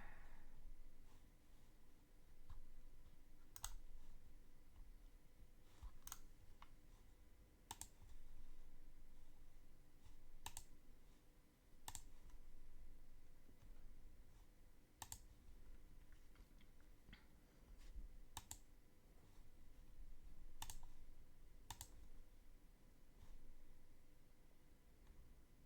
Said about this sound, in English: you're gonna get all my mouse clicks at the moment.